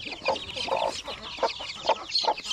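Young native chicks of the pure Zampen breed, from a hen's hatched clutch, peeping and clucking close by: a run of short, bright calls in quick irregular succession over a quiet background.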